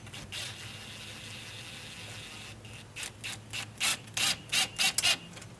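A screw drives into a stucco wall for a heavy-duty flagpole bracket, with faint grinding at first, then a regular series of about seven short, loud whirring bursts of the driver as it bites in, close by.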